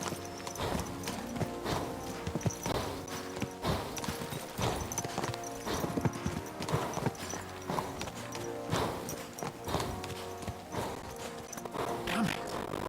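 Horse hooves clip-clopping at a steady riding pace in Kingdom Come: Deliverance 2, dense rhythmic thuds over a continuous ambient backdrop, with an occasional faint whinny and no talk.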